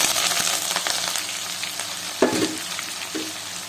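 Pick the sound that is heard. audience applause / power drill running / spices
spices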